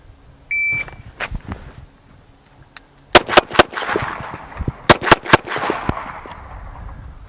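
Six sharp, loud pistol shots from a Smith & Wesson M&P 2.0 during an FBI qualification course, fired in two quick bursts of three after a start beep, with ringing echo between.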